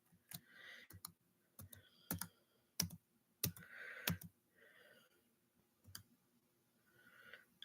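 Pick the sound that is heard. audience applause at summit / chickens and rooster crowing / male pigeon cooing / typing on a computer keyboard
typing on a computer keyboard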